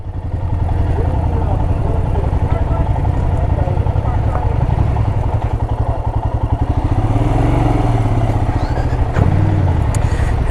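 An adventure motorcycle's engine runs steadily and loudly up close after a day riding muddy forest roads, a constant rumbling idle with some clatter throughout.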